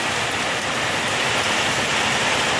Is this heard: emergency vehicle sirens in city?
no